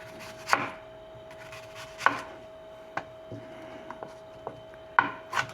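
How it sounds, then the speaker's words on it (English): Onion chopped finely on a cutting board for guacamole, with several distinct knife knocks at uneven intervals, a few sharper and louder than the rest, near and without talk. "Chop this real fine."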